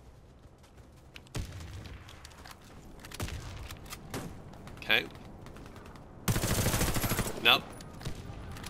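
Gunfire in the first-person shooter Warface: scattered single shots at first, then a sustained loud automatic burst near the end, with a player talking briefly over the action.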